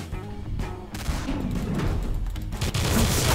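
Rapid gunfire in Garry's Mod, dense overlapping bursts and booms crackling in quick succession, loud and chaotic with no pause.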